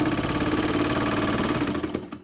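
A sewing machine runs in a steady, close, motor-like drone while stitching a cloth face mask, then winds down and stops abruptly near the end.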